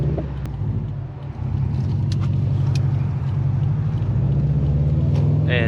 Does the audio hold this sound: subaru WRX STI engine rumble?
yes